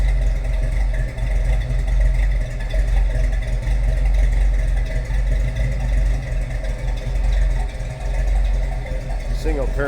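A 1970 Ford Mustang Mach 1 fastback's V8 with a mild cam idles loud and close, a deep, slightly lumpy burble running steadily throughout, with a brief higher sound at the end.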